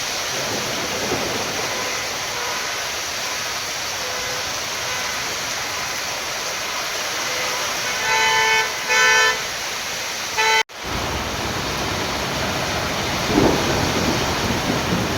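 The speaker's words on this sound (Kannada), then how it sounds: "ಔರಾದ್, ಕಮಲ್ನಗರ್, ಭಾಲ್ಕಿ ತಾಲೂಕಿನಲ್ಲಿ ಧಾರಾಕಾರ ಮಳೆಯಾಗಿದೆ." Heavy downpour with thunder over Aurad, Kamalnagar and Bhalki taluks, a dense steady roar of rain throughout, with a brief louder burst and a sharp cut partway before the rain resumes.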